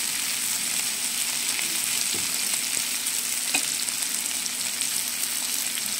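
Milkfish sisig fries in a pan, a steady close sizzle with faint crackles and occasional stirring clinks, loud and continuous with no talk.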